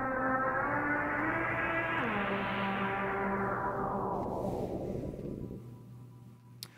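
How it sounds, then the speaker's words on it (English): A synth lead on an Akai Force runs through a lo-fi mixer effect, giving a gritty, noisy tone that sweeps upward and then slowly falls over about six seconds, fading at the end with no talking. "I've added this lo-fi effect, and if I enable it, it sounds more like this."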